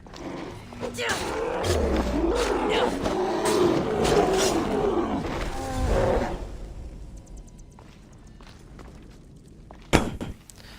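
Bears roar and growl in the ancient Greek cave setting of the video game Assassin's Creed Odyssey, loud rough roars filling the first six seconds, then quieter ambience and a sharp thud near the end.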